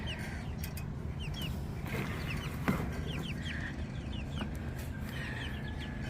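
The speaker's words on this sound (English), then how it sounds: "there are some roosters in here, like that's a little black rooster back there." Roosters, including a small black part-Cochin Bantam mix, crow and cluck inside a backyard coop: short repeated calls and chirps over a steady, fairly quiet barnyard background.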